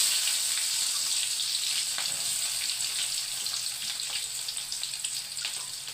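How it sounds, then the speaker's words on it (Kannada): Chopped onion dropped into hot oil in a home kitchen pan, frying with a steady, bright, close sizzle that holds evenly throughout with no talking. "ಈರುಳ್ಳಿ ಹಾಕ್ತಾಯಿದ್ದೀನಿ."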